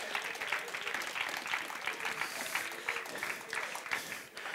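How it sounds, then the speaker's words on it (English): A church congregation claps in praise during a sermon, a busy, fairly loud patter of many hands with uneven surges, and some voices cheering underneath. "Give the Lord a hand and clap of praise."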